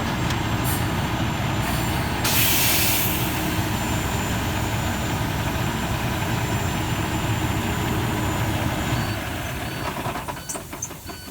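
Truck air brake system on a Class 1 vehicle during a pre-trip inspection: a loud burst of released air hisses near the start, over a steady idling engine rumble that fades slightly toward the end.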